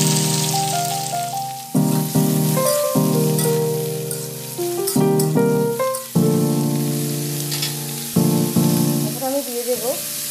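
Sliced ridge gourd hits hot mustard oil with nigella seeds, giving a steady close sizzling hiss while a tuneful melody plays over it.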